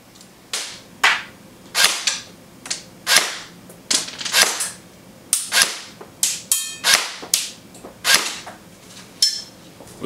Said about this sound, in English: Now, chronoing the gun with .25 gram rounds.